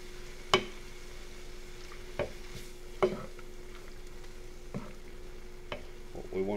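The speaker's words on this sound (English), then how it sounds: "What we want to do is get the milk and flour to mix together with that grease" Milk being stirred into flour and grease in a hot pan for a gravy roux, with a steady soft sizzle and a few sharp spoon clinks and scrapes against the pan at irregular intervals.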